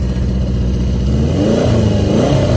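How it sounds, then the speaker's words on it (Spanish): A 1977 Honda CB400 Four motorcycle revs up, its exhaust note rising loud and close from a steady idle into a clean, climbing drone with no one talking. "cuando se acelera sube el voltaje y el sonido del escape sin duda muy muy limpio"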